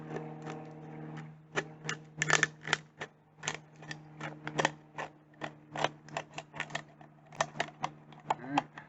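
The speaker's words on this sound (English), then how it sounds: "All I got to do with my tin snips is come over here to my aluminum can and start cutting" Tin snips cut across an aluminum can in a series of crisp, close metallic snips and crunches, irregular and fairly quiet, with faint speech at moments.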